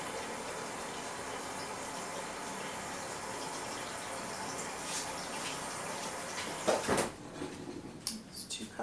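Filtered water pours into a measuring cup as a steady trickling stream, then ends with a few sharp splashes and clinks near the close, heard up close with no talk.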